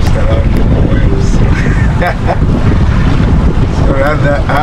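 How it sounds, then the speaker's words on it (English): Strong wind roars steadily across the microphone out on the water on a windy day of croaker bottom fishing, with waves and boat noise underneath and faint voices at times. "it's a very windy day"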